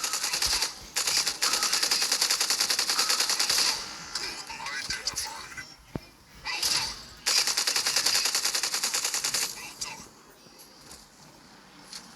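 Rapid automatic gunfire from a video game weapon with a slow reload, heard as two long, loud, close bursts of tightly packed shots separated by a few seconds of quieter clicks and shuffling.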